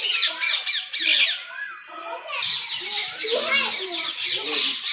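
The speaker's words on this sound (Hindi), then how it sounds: "तोता" Parrot squawking loudly and close at a garden aviary, harsh repeated calls running almost continuously, with other bird chatter and squeals mixed in.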